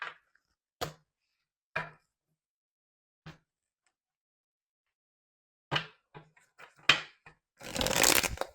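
Tarot cards handled, several crisp isolated card taps and flicks spaced apart, then a rapid riffle shuffle at the end, close and quiet, with no talk.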